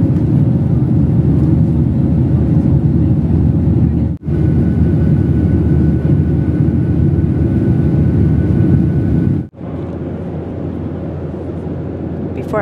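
Inside the cabin of an American Airlines passenger plane, the engines give a loud, constant low drone that holds steady apart from two brief dips, with faint voices underneath.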